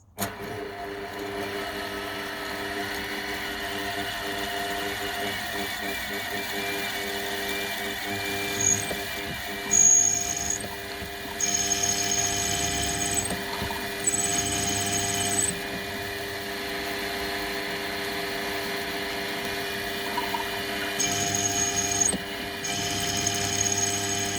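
A drill boring holes through a metal tooling plate lubricated with WD-40, a steady sustained whine and hum running throughout with a few brief load changes, close and even.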